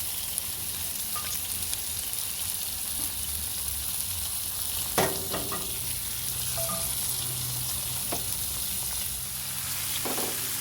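Peppers sizzle and fry in a hot cast iron frying pan, a steady bright crackle with occasional louder pops and a clink of a utensil about halfway through, close up with no talking.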